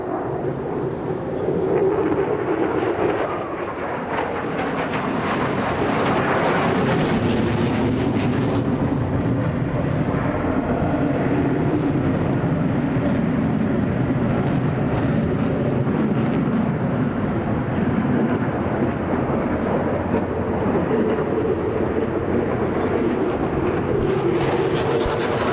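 An F-16 Block 60 fighter jet of the United Arab Emirates air force roars steadily and loudly throughout, a continuous broad rushing engine noise with a brief swell early on and no speech.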